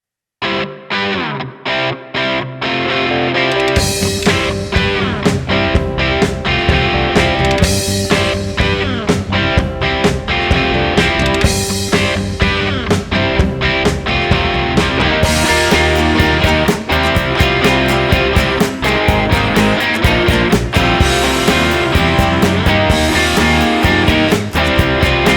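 Distorted electric guitar plays the Rolling Stones' Brown Sugar riff in open G tuning, a few sparse chords at first, then a steady, loud, driving chordal riff with chorus-like effect throughout, no talking.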